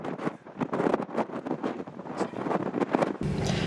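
Strong wind buffets the microphone at Cape Leeuwin lighthouse, gusting in rough, irregular rumbling bursts that stay loud and close throughout with no voices.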